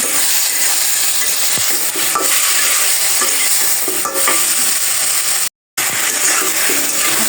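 A curry seasoned with dried chili powder sizzles loudly in a pan, with continuous frying hiss and repeated scraping, clattering stirs, broken by one short silent gap.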